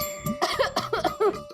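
A man coughs repeatedly in a sitcom household scene, a rapid run of about six harsh, close coughs with voiced, throaty edges.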